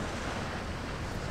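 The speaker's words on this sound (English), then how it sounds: "It's very windy." Strong wind in the video game Tomb Raider roars as a steady, loud, broadband rush with no breaks and no talking.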